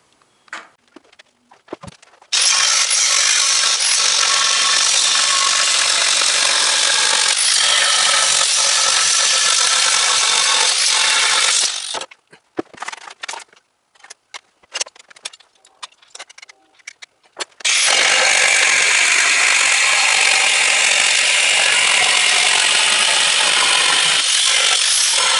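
An angle grinder cuts out damaged metal from a shop van frame near the tow package with a loud, sustained, harsh whine in two long passes. Short, sputtering bursts fill the gap between them.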